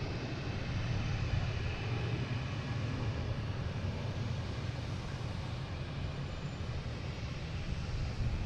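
United Boeing 737-900 departing Boston Logan for Houston, a broad, steady low rumble of jet engines held evenly throughout, moderately distant with no voices.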